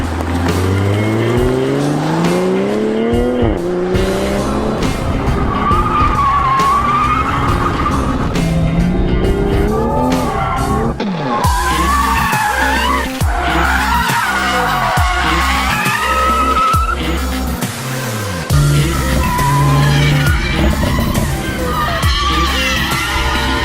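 A Toyota Supra is driven hard, its engine rising and falling through the gears while the tires squeal and skid repeatedly, loud and close.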